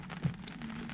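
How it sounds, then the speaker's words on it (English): Rain shower falling on a sailboat out on the water, a steady close hiss of drops with one brief louder patter, no voices. "We are having a rain shower."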